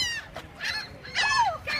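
Several seagulls calling near and loud, a series of harsh, wailing squawks in quick succession with brief gaps between them.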